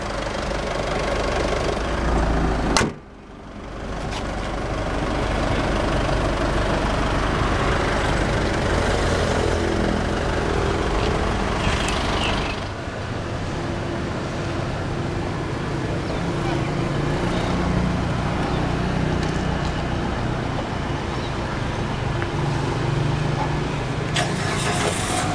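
A 2010 Mitsubishi Triton 2.5-litre inline-4 turbo diesel with a 5-speed manual idles steadily and loudly nearby, with a brief dip in level just before the three-second mark.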